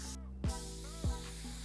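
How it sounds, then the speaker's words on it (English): Spray gun spraying clear coat in a paint setting: a steady hiss runs throughout, punctuated by two short bursts. "Oh, you spraying the clear now?"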